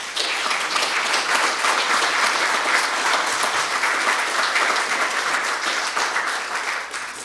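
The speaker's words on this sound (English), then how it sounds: "let's give her a round of applause" An audience at a State of the City event applauds the mayor, a steady, full burst of clapping that stays even and fairly loud before easing at the end.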